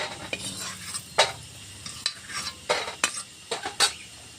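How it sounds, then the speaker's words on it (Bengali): Lentil dumplings (bori) fry in oil in a pan, a faint sizzle broken by sharp, irregular scrapes and clinks of a metal spatula against the pan, with no voices. "বড়িগুলো আমার ভাজা হয়ে গেছে। এখন বড়িটা থালাটায় তুলে নিই।"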